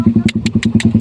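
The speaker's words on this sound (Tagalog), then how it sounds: "Kaingay ng motor nito ni Kautol." A loud motorcycle exhaust on an outing at Calayo, thumping in quick, even pulses at close range with a sharp crackle on every other beat.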